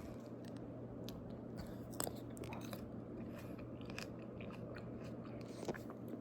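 Close, quiet ASMR chewing of grapes, with soft wet crunches and bites repeating steadily over a low background hum, no talking.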